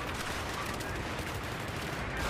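Continuous dense gunfire from the video game Battlefield 3, a steady loud wash of rapid shots and battle noise with no break.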